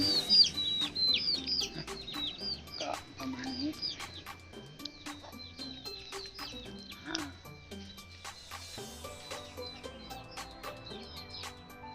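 Chickens cluck and chatter in the background around a homemade Thai-style rat cage: repeated short bursts come at an uneven pace, fairly faint, with crickets chirping steadily underneath.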